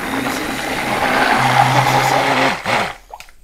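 A power mixer whirs steadily as it stirs slaked plaster in a bucket, a loud close motor drone with a scraping knock near the end before it cuts off.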